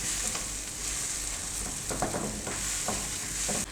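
Tomatoes and green chillies sauté in a hot pan for a quick breakfast dish, with a steady loud sizzle and occasional stirring scrapes of a utensil, heard alone without talking.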